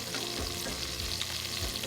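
Melted brown sugar being stirred in a pot for creamy chicken and wild rice, a soft sizzle with a few scraping stir strokes over a brief moment, close and fairly quiet.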